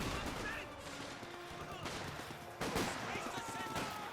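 A grenade detonates amid Company of Heroes 2 battle sounds, with sharp blasts and gunfire bursts, one strong hit near the end, heard under other battle noise.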